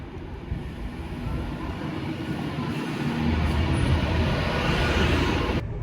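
Steady low rumble and rattling of a moving train from inside a carriage, continuous and fairly loud, swelling slightly partway through.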